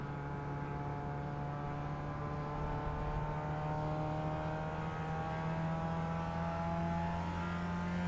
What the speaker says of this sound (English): And then accelerating all the way down, braking at the white line in 3rd gear.